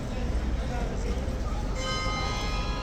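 A bell rings at Horse Guards in London, starting partway through and sounding as a steady tone above dense outdoor crowd noise.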